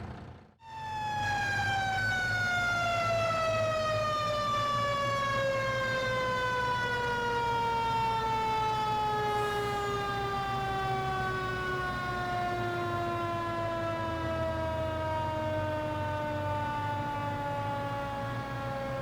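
An old fire truck's siren in the Farming Simulator 22 video game wails loud and continuous, its pitch sliding steadily downward over the whole stretch after a short start.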